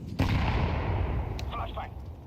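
Flashbang grenade going off in Counter-Strike 2, a sharp, loud bang that is followed by a decaying rumble, with speech briefly heard as the sound fades.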